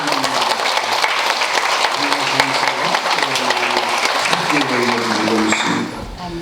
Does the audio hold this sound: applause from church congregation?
yes